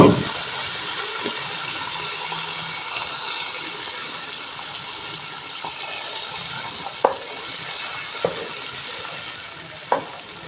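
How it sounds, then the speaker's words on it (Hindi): Hot oil tadka poured over Charsadda rice sizzles and hisses steadily and fairly close, with a few sharp pops and crackles breaking through the continuous frying noise. "और अब देंगे प्यार से तड़का।"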